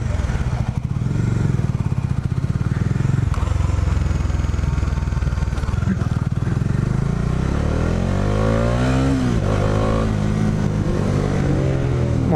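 A Bajaj Dominar 400 motorcycle engine drones steadily during a test ride, loud and close, with rising and falling revs as the rider accelerates through the gears near the end.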